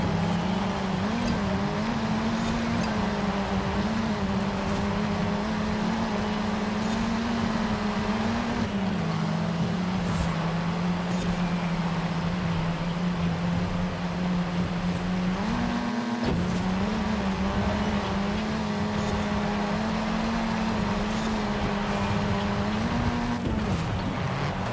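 Car engines drone steadily in the Forza Horizon 5 video game as a vehicle drives through a city in Mexico, one sustained loud hum with occasional pitch shifts and no talk.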